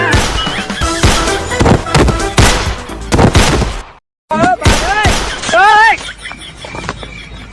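A rapid string of loud, close gunshot bangs in a comedy skit comes in bursts, stops briefly, then resumes. People talk and shout among the shots.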